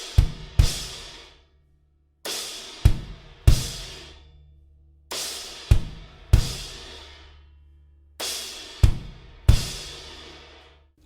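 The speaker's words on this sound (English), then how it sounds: "Then another kick drum that happens on the downbeat of 2 with a crash." Drum kit groove with a left-hand crash cymbal and kick drums: sharp hits landing in paired bursts with crash washes ringing out and decaying between them, close and clear, with no talking.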